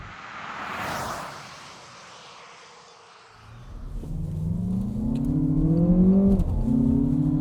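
Synthesized engine note piped into the cabin of a 2025 Lexus RX 500h Black Line hybrid as it accelerates: after a brief lull, a low hum rises into a steady, climbing tone that grows louder toward the end.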